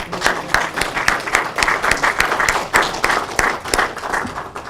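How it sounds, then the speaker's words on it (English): Loud audience applause during a church service, with many people clapping in a dense, lively rhythm close by and individual hand claps standing out sharply for several seconds. "Let's give them a round of applause"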